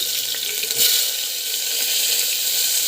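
Chopped onions sautéing in a pan with garlic and chana dal, a steady, close, fairly loud broadband sizzle running throughout with a brief stir-like bump near the start; no talking.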